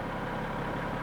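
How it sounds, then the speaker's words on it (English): A Unimog diesel engine runs steadily while driving its hydraulic pump, a continuous, even, low rumbling drone heard up close. "now we got the hydraulics running"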